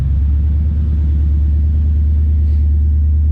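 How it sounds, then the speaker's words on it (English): A Gen 2 Coyote V8 swapped into a 1996-2004 Mustang idles with a loud, steady, deep exhaust rumble, close by and unbroken, with no talking. "Good sounding Coyote exhaust"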